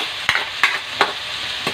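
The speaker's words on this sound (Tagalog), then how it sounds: "fry lang natin ng konti ang ating pangsahog" Pork and chicken frying with garlic and onion, with a steady sizzle and four sharp scraping stirs of a utensil in the pan at a regular pace, close and with no talk.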